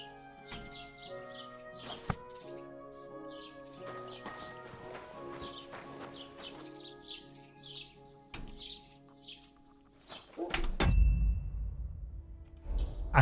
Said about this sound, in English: I thought the bird sounds were real bird sounds for a minute.